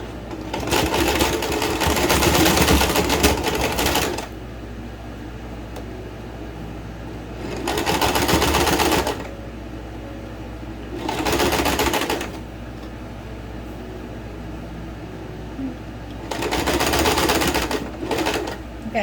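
A sewing machine stitches a shirt sleeve cuff in four loud, fast-running bursts separated by quiet pauses.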